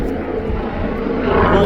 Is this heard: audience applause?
no